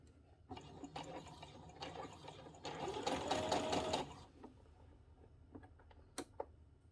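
Sewing machine stitching a dress seam, a close, steady whirring run lasting a few seconds that speeds up briefly before stopping, followed by faint clicks and fabric handling.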